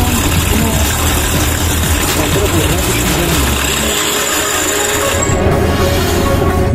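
Steam turbine spinning at 13,221 RPM: a loud, constant droning whir with a steady low hum runs throughout, and a voice speaks over it.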